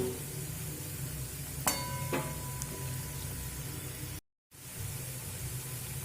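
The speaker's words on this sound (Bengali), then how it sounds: "এইভাবে নেড়ে নেড়ে কিন্তু লাল করে ভেজে নিতে হবে" Chickpea pakoras fry in hot oil, a steady close sizzle with a few scraping stir sounds early on and one brief break in the sound near the end.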